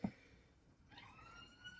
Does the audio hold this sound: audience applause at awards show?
no